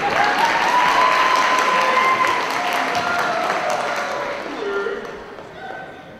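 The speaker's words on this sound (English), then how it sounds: "Yes, clapping is appropriate." A crowd at a cosplay convention's in-character costume showcase claps and cheers for a performer, loud at first and tapering off, with voices underneath and a tonal whistle or feedback line drifting through.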